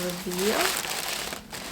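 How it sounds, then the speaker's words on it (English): Tissue paper crinkles close by as an Hermès hat box is unpacked, a brief rustle following a short moment of speech. "Also packed nicely with tissue paper."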